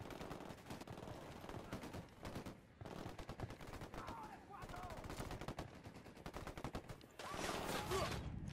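Sniper and automatic gunfire in a tactical shooter video game, repeated bursts of shots running through most of the stretch with a louder, denser volley near the end, with a voice faintly under it.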